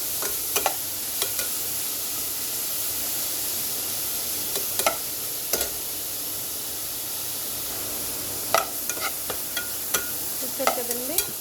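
Vegetables fry in oil for a spaghetti pasta recipe: a soft, continuous sizzle runs throughout, broken by several sharp clicks and scrapes of a utensil stirring against the pan.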